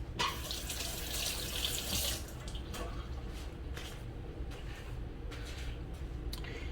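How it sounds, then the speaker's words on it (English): A kitchen faucet runs while hands are washed during cooking, a steady rush of tap water with splashy bursts near the start and a few intermittent splashes after it, fairly close and moderately quiet. "Make sure to wash your hands afterwards."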